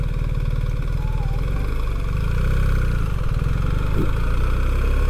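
A BMW 1300 GS enduro motorcycle engine running steadily nearby, a constant low throbbing idle with no strong revs, fairly loud and alone.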